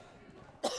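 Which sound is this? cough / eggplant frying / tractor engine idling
cough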